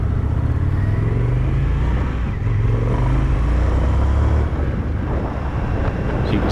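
A 2020 Indian FTR 1200 motorcycle in race mode pulls away from the line. Its throaty engine note rises in two surges under heavy, constant wind buffeting.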